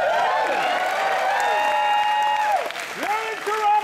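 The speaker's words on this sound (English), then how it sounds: "Such a noisy crowd at this time of night." A noisy late-night crowd applauds and cheers at a Midnight Madness world premiere screening in Toronto, a steady loud wash of clapping with whoops and whistles rising through it.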